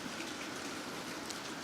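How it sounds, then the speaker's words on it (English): Steady rain falling in downtown Toronto on a cold, windy December night, a continuous even hiss of drops on surfaces with no talk over it. "And Dale, the rain has started to come down and this weather only expected to get worse."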